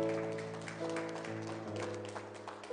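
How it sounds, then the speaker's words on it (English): A church congregation claps together at the close of a Sunday morning prayer, a steady wash of applause beneath sustained organ or keyboard chords, with a few voices mixed in. "Give the Lord a clap offering this morning"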